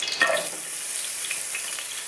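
Chopped onion dropped into a teaspoon of hot olive oil, a brief soft hiss and spatter at first settling into a quiet, steady frying sizzle, close up with no speech.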